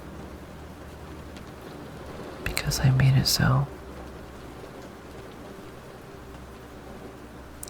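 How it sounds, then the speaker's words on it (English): Soft, constant rain hiss on a chilly night in a calm ASMR setting, running evenly under a brief whispered phrase midway through. "it's always this time of day, always raining"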